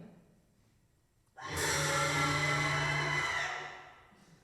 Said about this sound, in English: This is the sound of 10 kind friends and colleagues screaming in a recording studio.